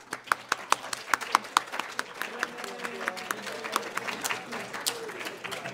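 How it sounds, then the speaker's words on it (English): Ladies in a conference audience applaud, opening with a run of sharp, distinct claps that grow into steady crowd applause with a faint murmur of voices underneath. "Ladies, round of applause."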